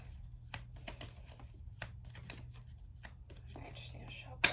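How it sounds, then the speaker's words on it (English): Tarot cards being shuffled by hand at close range, soft repeated riffling and slapping in quick uneven bursts, over a low background hum. "I just need to shuffle."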